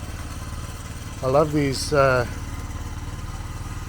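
A motorcycle engine idles steadily after a carburettor repair, a low continuous throbbing that runs through the whole stretch while someone speaks briefly over it.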